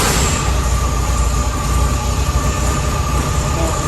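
A 1973 Volkswagen Bug coupe's air-cooled engine runs steadily up close, a dense continuous rumble with a constant hum and no pauses or talk.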